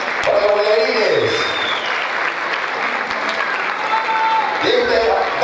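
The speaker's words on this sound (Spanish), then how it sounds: "¡Fuerte los aplausos para los bailarines!" Audience applause for child merengue dancers at a Latin dance show, a steady dense clapping wash that runs the whole time, swelling at the start and end, with a voice briefly calling over it.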